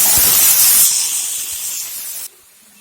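Bathua greens are dropped into a hot frying pan of fried onions and chilies, setting off a loud, close sizzling hiss that slowly fades and then cuts off.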